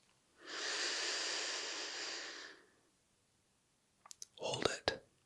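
A slow, steady breath is drawn in through the nose as a long, soft airy hiss lasting about two seconds, close and intimate in a quiet room, then a few faint clicks and a brief mouth sound.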